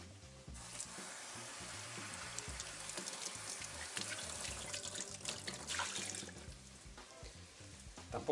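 Tap water running over freshly peeled potatoes in a kitchen sink while cooking arroz a banda, a steady rushing stream with faint splashing and handling, fairly quiet and alone.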